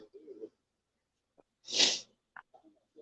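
A single sharp sneeze bursts out loudly in the middle, with quiet scattered breaths and faint mouth noises before and after.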